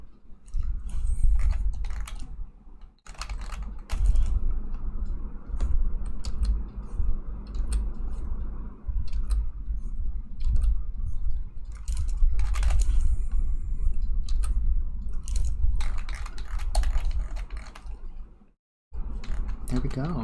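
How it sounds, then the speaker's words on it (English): Computer keyboard keys and mouse buttons clicking steadily during digital drawing, a close, busy run of taps and clicks with a voice talking over much of it. "they just don't get rid of any sound from my keyboard and mouse"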